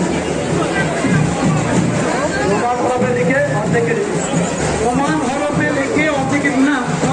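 Continuous hubbub from a large crowd at a Saraswati Puja gathering in Paschim Medinipur, where a quiz is underway; overlapping voices and chatter hold at a steady, fairly loud level with no pauses.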